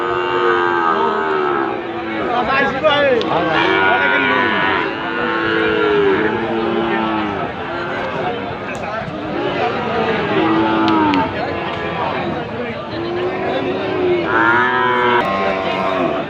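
Sahiwal cattle moo repeatedly at a busy livestock market, a series of loud, drawn-out lowing calls from more than one animal arriving every few seconds over a crowded background with voices talking.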